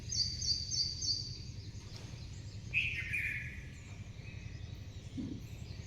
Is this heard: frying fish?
no